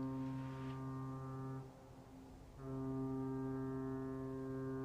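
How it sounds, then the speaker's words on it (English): A coastal foghorn blows two long, deep, loud blasts, separated by a brief quieter gap, with no voices over it. "The foghorn?"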